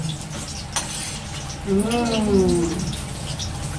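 Eggplant fritters are lowered into hot oil and start to sizzle, with light utensil clinks and stirring nearby and a voice talking over the frying.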